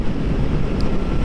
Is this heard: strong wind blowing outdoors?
yes